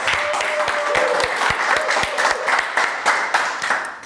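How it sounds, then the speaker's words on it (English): Audience applause at a live show, a steady wash of many hands clapping with a few distinct nearer claps, loud and continuous with faint voices underneath. "Give him a big round of applause."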